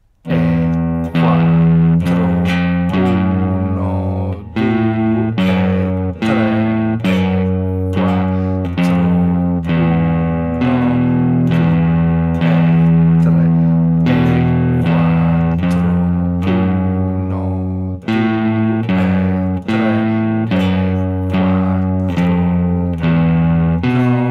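A slow, deliberate electric guitar riff with a lightly driven tone, notes and chords repeating steadily and loudly with no voices over it.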